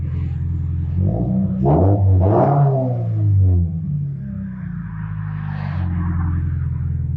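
A 2023 Toyota GR86 2.4 boxer engine with an aftermarket exhaust revs up hard, its pitch rising and falling through a couple of blips, then settles back into a low idle rumble.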